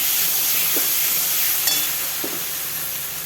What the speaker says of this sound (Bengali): এইভাবে কষাতেই থাকবো মশলাটা। দেখুন ভাজতে ভাজতে এরকম তেল ছেড়ে এসেছে।